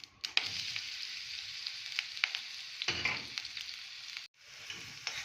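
Onion frying in ghee in a pan, a steady close sizzle with a few crackles and stirring scrapes, briefly dropping out near the end before resuming.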